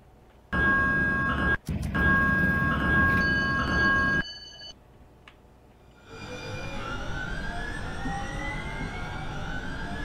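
A Minneapolis–St. Paul Blue Line light rail train passes close by in snow with a loud rumble and a sustained horn blast, then rolls away into a quieter steady hum.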